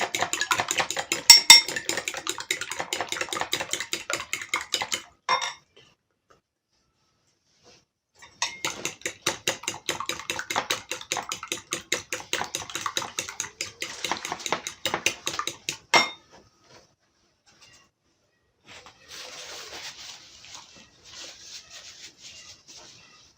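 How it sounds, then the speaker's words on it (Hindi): A spoon clinks and scrapes rapidly against a bowl while bread-slice batter is mixed, in two long bursts separated by a pause, then a softer stretch of stirring. "अच्छे से मिक्स कर लेंगे।"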